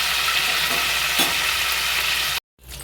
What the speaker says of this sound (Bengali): মাছটা আমি হালকাই ভেজে নেব